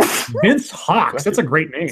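A single sneeze breaks into a stretch of continuous conversational talk during a live stream, brief and close amid the voices.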